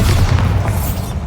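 Bombarda spell in Hogwarts Legacy lands as a single loud, deep booming explosion with a rumbling low-end body that fades briefly.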